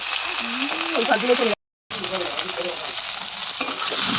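Bitter gourd pieces fry in a pan with a loud, steady sizzle, while a voice talks over it in the first part; a brief gap of silence breaks the sound partway through.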